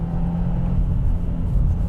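Steady, close engine drone from a 2025 Subaru WRX tS with its 2.4-liter boxer four, a low rumbling hum that holds fairly even throughout with no talking.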